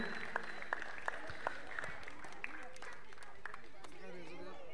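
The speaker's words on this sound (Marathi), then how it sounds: "जोरदार टाळ्या वाजवायच्या सगळ्यांनी" An audience claps at a prize ceremony for a monsoon football tournament, with scattered, fairly distant claps heard under a loud announcer's voice and crowd murmur.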